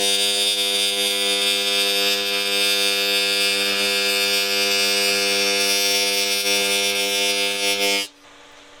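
Steady, loud electric buzz of a TIG welding arc on cracked cast aluminum, holding even for about eight seconds, then cutting off abruptly into a quieter hum.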